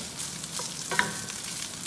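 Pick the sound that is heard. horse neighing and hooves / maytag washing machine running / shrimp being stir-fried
shrimp being stir-fried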